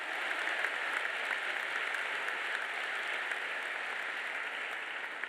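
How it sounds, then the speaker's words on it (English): Audience at a graduation ceremony applauding mothers in the room, a dense, steady wash of many hands clapping at even loudness throughout, with no voices over it. "can we give a round of applause to all the mothers in the room?"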